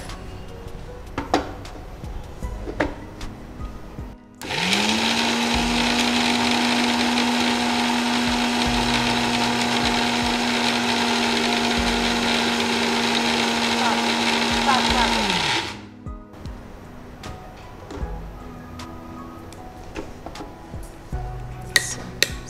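A mixer grinder whirs loudly at a steady pitch for about ten seconds, grinding dry ingredients, with clattering kitchen sounds and faint talk before and after.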